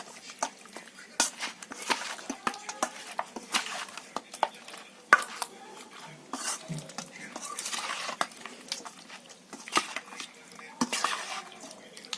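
Spoon stirring and mixing hot chicken during marinating, with soft scraping clicks and irregular taps against a bowl, close and fairly quiet.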